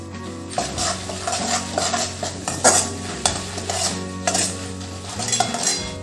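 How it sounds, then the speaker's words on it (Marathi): Mustard seeds and spices for jowar murmura chivda crackle and sizzle in hot oil in a pan, a busy, continuous frying hiss with light stirring and utensil clinks throughout. "चिवड्यासाठी फोडणी छान तयार झाली आहे"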